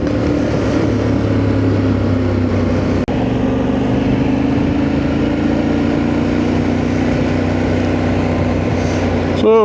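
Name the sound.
motorbike riding and revving, doing a wheelie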